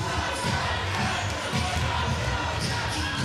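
Mongolian fans in the audience of a basketball arena at a 3x3 World Cup game, a continuous crowd roar with rhythmic chanting and cheering bursts, fairly distant and steady across the whole stretch.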